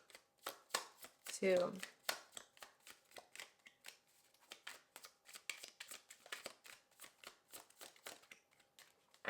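A deck of tarot cards being shuffled by hand during a card reading, with quick rhythmic riffling flicks in close, crisp bursts and a brief spoken word partway through.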